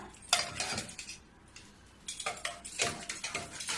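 A ladle clinks and scrapes against a wok while mango pulp is stirred, giving bursts of metallic scraping and tapping separated by short quiet pauses.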